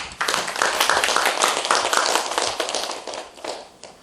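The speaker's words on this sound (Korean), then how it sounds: "박수로 환영해 주시기 바랍니다." Audience clapping to welcome a monk speaker at a Buddhist education seminar, a brisk burst of many hands that swells, holds, then thins out over four seconds, close and fairly loud.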